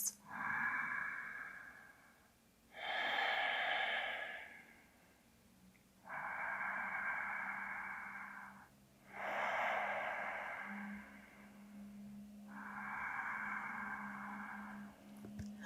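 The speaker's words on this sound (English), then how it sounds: "Take 3 deep breaths into your belly here. So deep, nourishing breaths." Slow, deep belly breaths during a gentle yoga session: about five long, close inhales and exhales alternate in a steady rhythm, with no talking.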